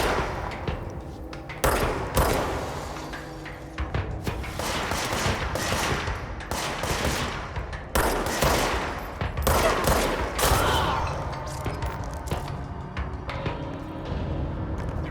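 Rapid gunfire in the video game Control, fired in a quarry during the Threshold mission: repeated loud bursts and single shots over about fifteen seconds, with dense, continuous shooting and heavy impacts throughout.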